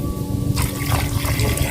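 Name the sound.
pouring water into a pot with fish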